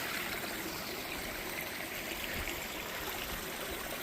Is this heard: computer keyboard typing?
no